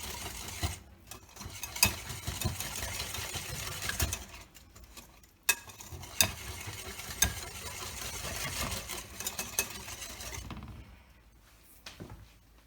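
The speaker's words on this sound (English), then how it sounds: "Go ahead and whisk that together, break it up." Carrot cake batter being whisked in a bowl, a steady stirring and scraping texture with small clinks, close and continuous for most of the stretch before thinning out near the end.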